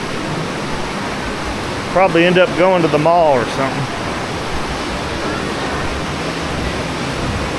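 Heavy rain pours in a steady broadband roar in Davao City, Philippines, while someone talks briefly over it before the downpour continues alone.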